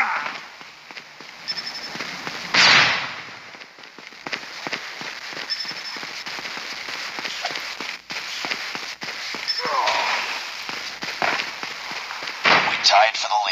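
Flashbang grenade blast and bursts of gunfire in the mobile shooter game Call of Duty Mobile, a sharp loud bang early on followed by steady rapid shots and clatter, with in-game announcer voice lines over the action.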